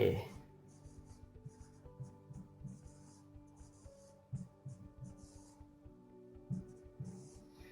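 A stylus pen taps and scratches lightly on a Microsoft touchscreen, soft intermittent strokes close by, with someone speaking between and over them.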